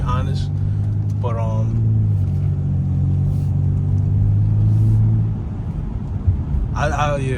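Steady low engine drone from a BMW 328 with a V6, heard from inside while driving, a constant rumble with a few voices talking briefly at the start and end.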